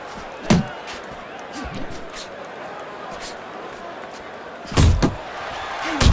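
Two heavy, thudding punch impacts land in a Fight Night Champion boxing match between Tyson Fury and George Foreman, one early and a louder double hit later, over crowd ambience and commentary.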